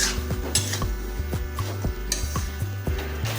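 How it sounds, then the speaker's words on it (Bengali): Spice paste being stirred in a kadai over a medium flame for a Bengali monsoon mixed-vegetable dish with rohu fish head and prawns: a steady run of scraping, clinking spoon strokes against the pan, close and fairly loud, with a faint sizzle underneath. "এখন এটাকে আমরা আরও মিনিট 5 ধরে মিডিয়াম ফ্লেমে কষাবো"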